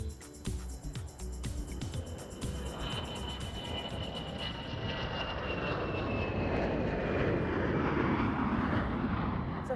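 A fixed-wing airplane roars as it takes off, its engine noise swelling into a steady broadband rush that grows louder and fills the scene.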